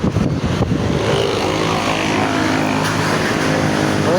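Engine of a long-parked car running after finally being started, a loud, steady droning idle close by, with a few sharp knocks at the start and no talk.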